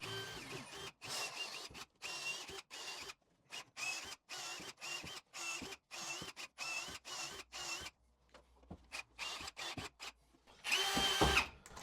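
Power drill whirring in short repeated bursts with brief pauses between, close by aboard a motorsailer, ending in a louder final run.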